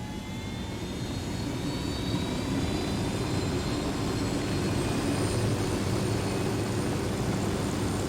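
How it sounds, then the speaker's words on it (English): Helicopter in the video game Ghost Recon Wildlands, a steady, loud rotor-and-engine drone that holds evenly throughout, with no talking. "Let's take the helicopter again."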